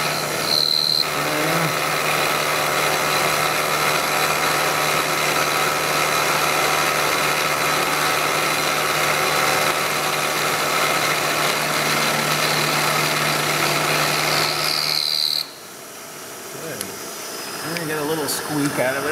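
A power chamfering tool runs steadily on a metal workpiece, a loud continuous whirring hum with a faint high whine, holding nearly unchanged before cutting off abruptly near the end, leaving quieter shop noise.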